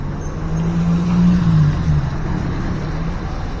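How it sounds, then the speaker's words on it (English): Cars driving through the streets of Lucca, an Italian walled town, produce a steady engine hum with a slightly louder pass in the middle. "Cars."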